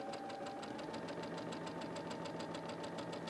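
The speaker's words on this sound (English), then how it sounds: "I'm simply going to move over and sew that second marked line" A sewing machine stitches a second marked diagonal line across quilt fabric for a sailboat quilt block, a steady, rapid mechanical chatter running continuously at close range with no talking.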